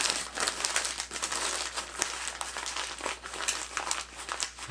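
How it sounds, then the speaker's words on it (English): Steady crinkling and crumpling of a full sheet of paper being folded back and wadded underneath, continuous close rustling with short sharper crackles throughout. "fold it back down. You want to wad it under"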